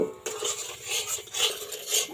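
Coconut paste and ripe palm fruit mixture is stirred in a wok, with soft repeated scraping and clinking of a utensil against the pan in an uneven rhythm, quiet and close.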